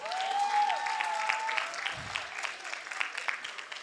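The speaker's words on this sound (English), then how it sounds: "Clap a round of applause." Scattered clapping from a student leadership gathering, uneven and moderately quiet, with some voices and a tonal sound mixed in underneath.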